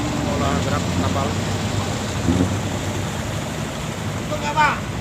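Engine of a squid fishing boat rumbling steadily as the captain maneuvers the vessel, a continuous low drone with wind and water noise and voices talking faintly over it.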